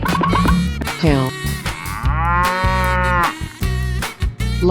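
A cartoonish cow moos in a 3D animal slide game, several loud drawn-out lowing calls in quick succession, with bright game music underneath.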